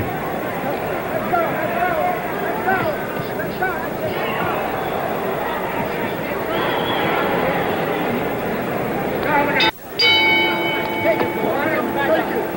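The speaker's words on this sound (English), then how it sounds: "The bell for round 9." A boxing ring bell rings once near the end to open round 9 at a Muhammad Ali versus Ken Norton heavyweight fight in the San Diego Sports Arena, a sharp metallic clang that rises out of steady crowd noise and commentary.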